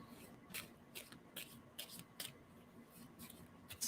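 Tarot cards being shuffled by hand, a series of quick, crisp riffling bursts repeating roughly every half second, soft and close with no talking.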